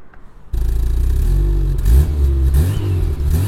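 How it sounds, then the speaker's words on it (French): A Volkswagen Polo G40 starts abruptly and settles into a loud, close idle with a throaty exhaust note. It then gets a couple of blips of the throttle that swell and fall. "je vais démarrer la bête pour vous faire écouter le bruit du pot d'échappement"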